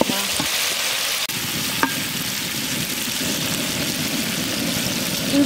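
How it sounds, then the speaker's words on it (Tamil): Garlic fries in a hot pan for a goat intestine curry (kudal kulambu), a loud, steady, close sizzle that runs throughout, with a couple of faint knocks of utensil against pan. "பூண்டு போட்டுக்கலாம்."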